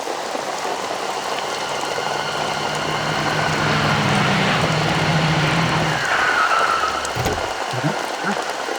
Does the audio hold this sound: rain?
yes